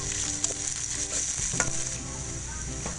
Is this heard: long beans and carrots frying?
yes